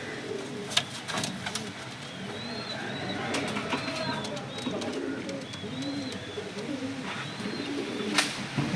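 White pigeons from a high-flyer loft cooing repeatedly, soft rolling coos overlapping in a steady stream with occasional faint chirps, fairly close and continuous with no talk.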